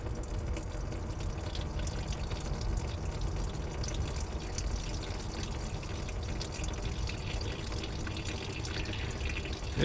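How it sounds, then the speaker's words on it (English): Fuel pours steadily out of a tank in a continuous close liquid stream, a constant splashing gush with no pauses and no talking. "Got a gallon of fuel coming out of this thing."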